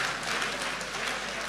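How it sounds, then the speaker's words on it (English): Applause at a diocesan synod session, a dense, even wash of many hands clapping from a crowd, steady and moderately loud throughout the short burst. "A very big applause for this moment."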